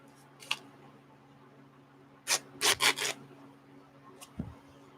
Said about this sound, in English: Snip 4 of these off.